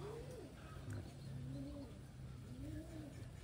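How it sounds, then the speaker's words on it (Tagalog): Pigeons cooing in slow, repeated, rounded calls, about three in a row, at moderate distance over a steady background hum. "Ito yung ibon mga kalapatids."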